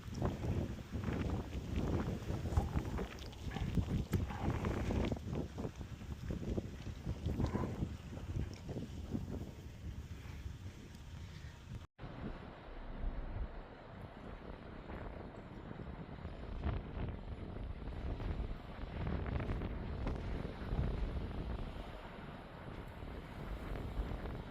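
Strong wind gusts buffet the microphone outdoors in the San Bernardino National Forest, a continuous rough roar that surges and eases, with no speech.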